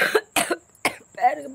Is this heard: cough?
yes